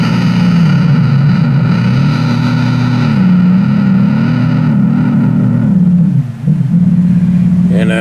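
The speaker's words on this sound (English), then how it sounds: "this bridge, you can pull it up, like I'm pulling it out, or you push it down" An electric guitar with a double tremolo bridge plays through distortion while the bridge is pulled up and pushed down. The sustained droning notes bend slowly up and down in pitch, loud and continuous.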